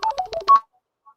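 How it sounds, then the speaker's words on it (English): A mobile phone gives off a quick run of clear electronic ringtone notes, close and fairly loud, then falls silent after about half a second. "my phone's ringing"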